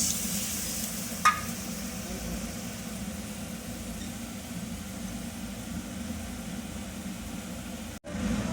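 Soaked tamarind water poured into a hot wok and stirred while cooking a sour fish dish, giving a soft, steady simmering sizzle with a brief clink early on and a sharp knock near the end.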